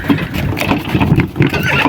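A draft horse whinnies amid clopping hooves, close and fairly loud, with short bursts of movement across the brief moment.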